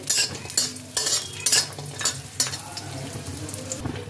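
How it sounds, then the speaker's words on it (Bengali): Sun-dried lentil dumplings frying in hot mustard oil, loud bursts of sizzle and spatula scrapes recurring every half second or so over a crackling oily hiss. "তেলটা গরম হয়ে গেছে, এর মধ্যে আমি দিয়ে দিচ্ছি কটা বড়ি। বড়িগুলোকে একটু ভালোভাবে ভেজে নিতে হবে।"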